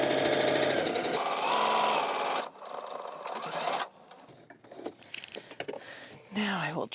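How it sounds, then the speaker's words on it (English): Sewing machine back tacking across the flange of a pillowcase: a loud, fast mechanical stitching chatter up close that stops and restarts in short bursts, followed by quieter handling sounds. "I am going to back tack just to really hold that flange in there."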